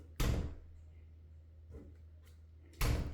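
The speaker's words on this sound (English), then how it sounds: "That door was swinging by itself." A swinging door being pushed makes two loud sharp knocks about two and a half seconds apart, with a softer bump between them and a steady low hum underneath.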